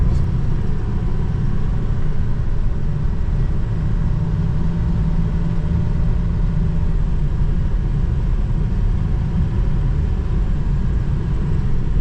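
Ford F-350 Powerstroke truck engine droning steadily while driving, a constant loud low rumble with road noise filling the cabin throughout, no one speaking.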